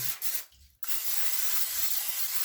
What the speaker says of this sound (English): So now I'm going to use some non-stick baking spray